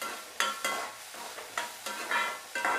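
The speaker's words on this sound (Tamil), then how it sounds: "அது கேப்சிகம் பீன்ஸும் நல்லா வதங்கியாச்சு" Capsicum and beans sauté in a pan for a vegan sandwich filling, a steady soft sizzle broken by a series of spoon strokes stirring the vegetables at uneven intervals.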